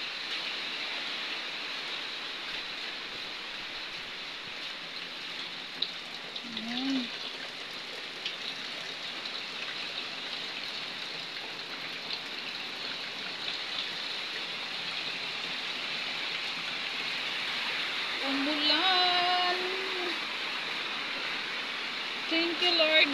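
Steady rain hisses and patters on surfaces throughout. A few brief voices call out faintly in the background.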